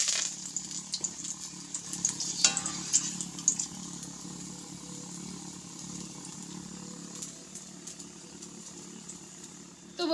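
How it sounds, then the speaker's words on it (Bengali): Green chillies frying in hot oil for jhuri aloo bhaja, a steady sizzle with sharp spits and pops early on that settles into a softer, even hiss. "তো আমি এদিকে কাঁচা লঙ্কাগুলোকেও সেমভাবে ভেজে নেব।"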